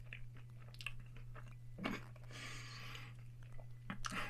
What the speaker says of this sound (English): just going to eat it with my bare hands and see how that goes